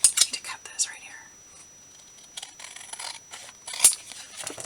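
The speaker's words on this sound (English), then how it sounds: "I need to cut this right here." Scissors cut through paper during a craft project, with several close, sharp snips spaced unevenly among soft whispered talk and quiet handling noises.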